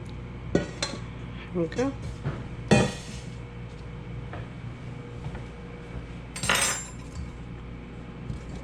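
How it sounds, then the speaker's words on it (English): Dry ingredients are stirred into wet banana nut muffin batter with a utensil clinking against a bowl in several sharp knocks and scrapes, and a voice speaks briefly. "now I mix my dry ingredients into my wet ingredients"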